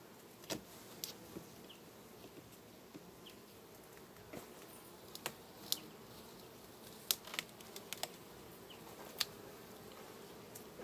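Honeybees in a thermos beehive during a September inspection as frames are pulled out: a faint, steady buzzing hum with scattered light clicks and knocks of wood and tools.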